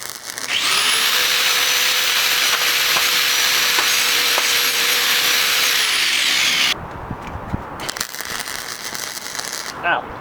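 A power drill whines loudly and steadily for several seconds while boring holes for go-kart bumper brackets, then cuts off, leaving quieter shop rustling and a brief second burst.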